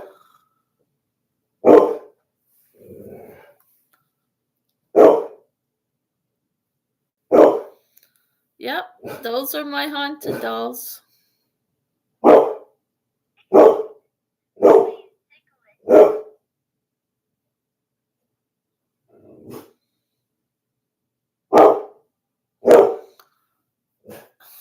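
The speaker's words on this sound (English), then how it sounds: "She's barking at nothing though." A pet dog barks in a home, sharp single barks spaced every few seconds, loud and close, with someone talking briefly between them.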